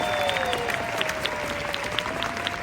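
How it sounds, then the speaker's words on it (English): An outdoor concert crowd at the Hollywood Bowl opening night claps in a steady, fairly distant wash of applause, with a few scattered whistles over the top. "Give them a huge round of applause if you would."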